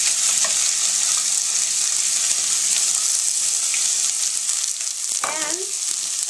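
Chopped beet stems hit hot olive and sesame oil in a pan, giving a loud, steady, close sizzle that runs throughout, with a few faint scrapes and clinks near the end.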